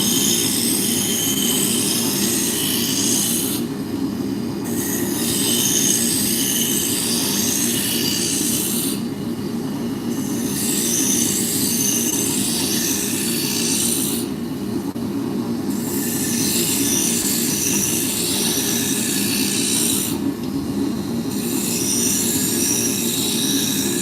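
Wood turns on a lathe under a spindle gouge, a continuous droning rumble with a bright cutting hiss that drops out briefly about four times at regular intervals, with no talking.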